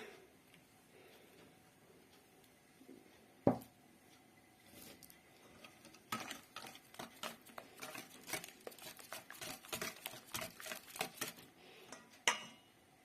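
Honey cake batter is whisked in a bowl: after a quiet start and one sharp knock, rapid rhythmic clinking strokes run steadily, close and moderately loud.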